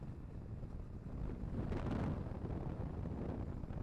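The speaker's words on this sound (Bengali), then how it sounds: "বাতাসের ঝাপটাটা কিন্তু ভালোই লাগতেছে এখন।" Outdoor wind buffets a microphone near a river, giving a low, rumbling roar that swells into a stronger gust midway and then holds steady.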